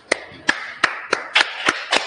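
Seven sharp claps ring out at a steady, slightly uneven rhythm in a quiet room, each crisp and distinct, with no voices between them.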